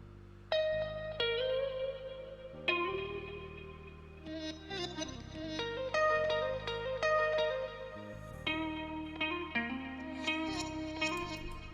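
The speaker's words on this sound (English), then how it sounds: "It's like a reverse guitar." Swelling, reversed-sounding electric guitar notes drenched in reverb and echo, rising into each chord in a steady, dreamy progression.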